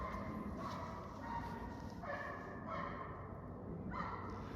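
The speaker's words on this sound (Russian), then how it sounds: "Что там за лай такой?" A dog barks a few times at a distance, short yelps spaced out over a steady background rumble, fairly faint.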